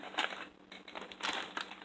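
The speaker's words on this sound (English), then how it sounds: "And then we're going to just dump it in here." Close crinkling and rustling of a foil taco seasoning packet as its contents are shaken out, with soft irregular crackles.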